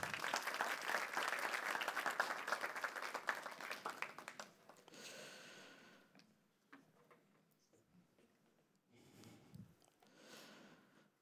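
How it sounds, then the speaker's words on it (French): A church congregation breaks into dense, loud applause that fills the first four seconds, then gives way to quiet room sound with a few scattered faint noises. "On peut encore l'applaudir."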